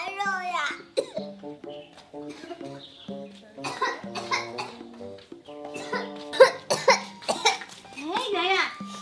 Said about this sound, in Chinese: 这怎么咳嗽又厉害了？